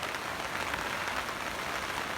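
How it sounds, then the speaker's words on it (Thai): Heavy rain falls steadily in a rural garden during a strong storm, a dense, even hiss of drops on surfaces with no break, heard on its own. "ก่อนที่จะหนาวนะคะฝนก็จะต้องตกหนักๆแบบนี้ก่อนค่ะ"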